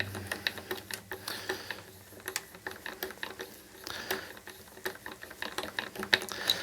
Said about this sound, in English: we take our tuning or our peg winder and we just turn it down